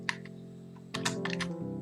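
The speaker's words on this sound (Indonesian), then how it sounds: "Jadi kalau ingin melanjutkan, teman-teman tinggal ketik iya." Someone types on a computer keyboard, a few soft separate clicks followed by a quick burst of keystrokes over a low background hum.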